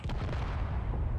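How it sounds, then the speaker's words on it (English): Base turrets in the Space Engineers video game firing, a dense run of rapid booming shots and rumbling blasts heard at a moderate distance. "The rest of the base is firing."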